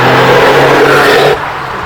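A Lancia car accelerates hard away from the line on the Shelsley Walsh hill climb, a loud, close engine rising briefly in pitch before dropping off sharply as it pulls away.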